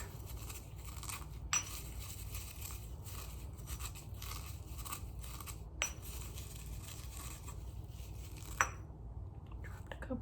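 Egg shells are ground into powder in a quiet ASMR session, giving soft continuous crunchy scraping and grinding with a few sharper clicks scattered throughout, close and gentle, with no talking.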